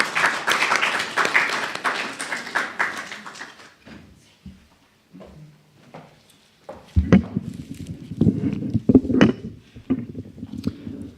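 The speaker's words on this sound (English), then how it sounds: "everybody, with a round of applause." Scattered audience applause at a community planning meeting as a speaker walks up, a modest burst of clapping that fades within a few seconds, followed by quiet room noise, footsteps and some knocking or handling sounds.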